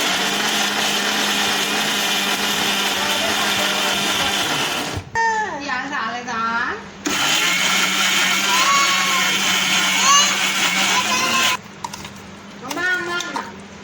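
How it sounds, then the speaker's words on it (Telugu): A mixer grinder whirs loudly in short bursts, coarsely grinding cucumber chutney, cutting off between pulses while someone talks in the gaps. "మరొకసారి మిక్సీ పెట్టుకోవాలండి"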